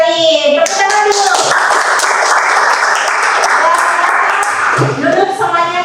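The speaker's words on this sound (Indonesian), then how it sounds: "Tepuk tangan dulu" A classroom of young children claps hands together in a sustained burst of loud, steady applause lasting several seconds, with a teacher's and children's voices heard briefly before and after.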